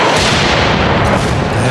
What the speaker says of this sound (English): Only a matter of seconds now before the explosion.